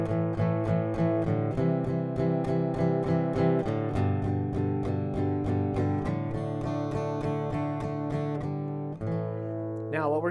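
An electric guitar chugs on two or three strings in fast, steady repeated strokes, moving through a chord progression, loud and close with no talking.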